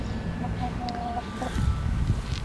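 A single hen on a small farm clucking softly amid steady outdoor background noise, a few short faint calls and one longer drawn-out note, with a voice murmuring nearby.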